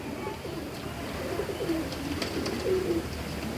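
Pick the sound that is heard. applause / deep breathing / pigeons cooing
pigeons cooing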